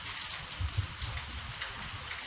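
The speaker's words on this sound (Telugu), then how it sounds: "చెట్లు ఊగుతున్నాయి చూసారా, ఎట్లా గాలితో వచ్చింది వర్షం" Rain falling with wind during a sudden monsoon-style shower after hot weather, a faint steady hiss of drops with a few soft low gusts, heard at a distance with no voices.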